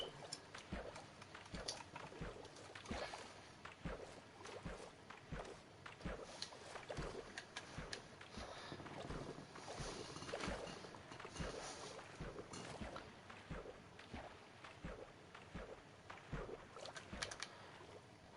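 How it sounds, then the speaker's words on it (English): Boat being paddled across water in Minecraft, with a steady run of rhythmic, clip-clop-like paddle strokes repeating throughout over a constant wash of background noise, no talking. "I just realized I was literally just paddling."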